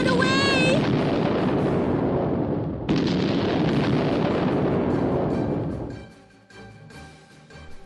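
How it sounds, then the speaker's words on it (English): A cartoon volcano erupts with a loud, dense blast and a roaring rumble that holds for about six seconds before fading to a low tail, with a short shout at the start. "the volcano exploded with a bang"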